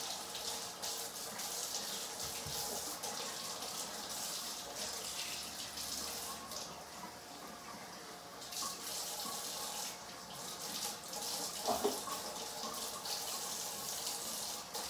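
Tap water runs steadily into a sink while something is washed, a continuous close hissing splash with small shifts in flow and a brief clatter near the end.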